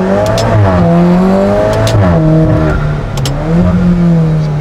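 Alfa Romeo 4C revving hard and close, the engine pitch rising and falling through several sharp blips with crackling pops between them.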